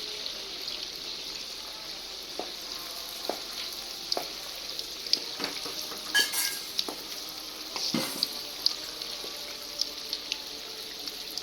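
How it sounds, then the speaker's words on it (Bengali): Palm fruit fritters frying in hot oil in a wok give a close, continuous sizzle, broken by scattered clicks and scrapes of a utensil against the pan. "আমি এবার এই তালের বড়াগুলো ভেজে নেব।"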